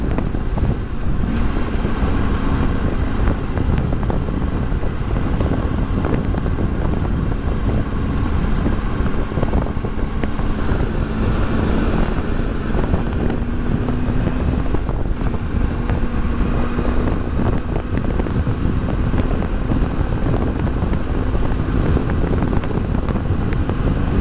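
A 2019/2020 Triumph Tiger 800 XCA motorcycle roars steadily as it is ridden, with loud continuous engine drone and rushing wind buffeting the microphone throughout, and no voices.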